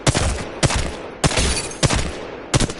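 Gun firing in Apex Legends, bursts of sharp, loud shots in a regular rhythm: about five quick volleys spaced roughly half a second apart, close and alone with no talking.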